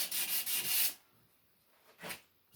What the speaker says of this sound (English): I just rub that sandpaper on there like that